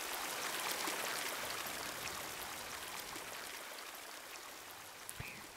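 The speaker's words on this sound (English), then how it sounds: "There's the waterfall." A waterfall in a virtual-reality game played on an Oculus Rift DK1 rushes as a steady, broad hiss of falling water, fairly soft and continuous, with no talking over it.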